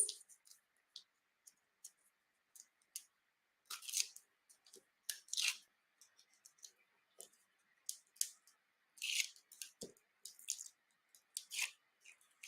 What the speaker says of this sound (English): We're going to get rid of all our little paper backings.